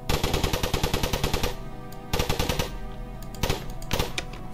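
Automatic gunfire from the Minecraft Additional Gun Mod, a loud rapid burst of evenly spaced shots followed by two shorter separated bursts, close and clean with no talk.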